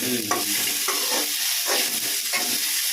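Ridge gourd pickle mixture sautés in a pan, a bright continuous sizzle punctuated by regular scraping stirs roughly every second, close and loud.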